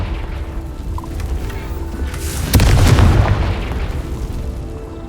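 Confringo spell explosion in the Hogwarts Legacy video game: one loud booming blast midway through, rumbling briefly under ongoing game ambience.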